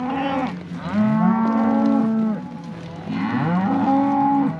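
Cattle, including heifers, moo loudly and close in a large pasture, two long drawn-out lows in a row, with no talking.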